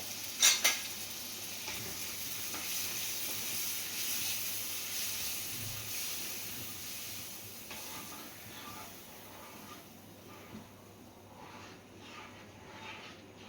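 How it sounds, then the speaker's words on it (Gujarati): A spoon scrapes and clinks in a pan while stirring batter for Gujarati fajeto into a spice tempering over a soft sizzle, with an initial clatter and steady stirring noises. "એને નાખી અને બરાબર હલાઈ દઈશું."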